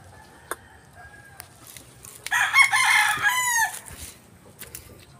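Fighting roosters on a gamefowl farm crow loudly in one long, drawn-out call near the middle, with softer clucks and faint farmyard noise before and after.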